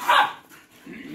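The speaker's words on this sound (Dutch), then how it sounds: "Niet blaffen." A single sharp bark from a black Patterdale fell terrier, close and loud, followed by a softer low grumble or whine.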